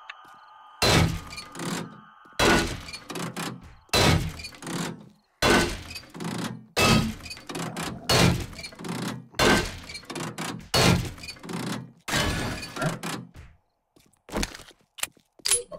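Dismantling a machine in 7 Days to Die: a long run of loud, sharp thuds and crashing impacts at an irregular rhythm, each followed by brief silence, with no voices.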